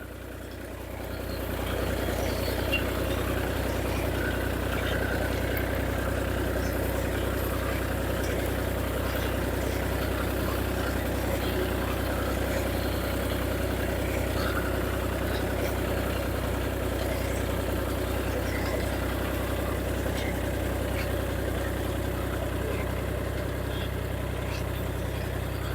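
A tractor engine runs in a rural village setting, a steady low rumbling drone that holds at a constant level for the whole stretch, close by and unbroken, with no talking.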